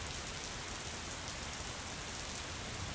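Rain falls steadily in an Australian backyard, a dense even hiss of drops hitting surfaces with no pauses and no voices.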